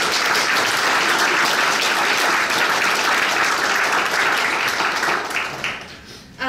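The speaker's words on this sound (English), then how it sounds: "So if we could all give them a huge round of applause." A large audience gives a long, loud round of applause at a Native youth celebration exhibit unveiling, sustained and steady before tapering off near the end.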